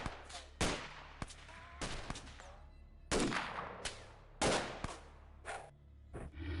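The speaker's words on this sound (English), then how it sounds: "Oh, that's dynamite." Dynamite blasts in the X-Com Files video game, a rapid series of loud, sharp bangs and booms spaced across several seconds, with each burst fading quickly into the next.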